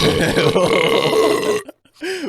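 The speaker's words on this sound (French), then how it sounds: "C'est un rot lavabo, hein." A loud, drawn-out, close belch rolls on for over a second and a half, then breaks off. After a short gap a brief croaking tail follows.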